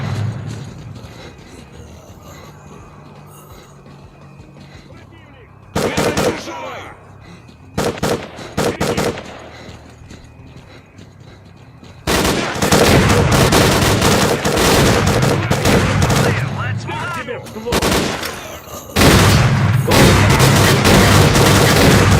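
Gunfire in the video game S.T.A.L.K.E.R.: Clear Sky, with a few short bursts early on, then long sustained loud automatic fire and clattering shots filling the second half over quieter ambient game sound.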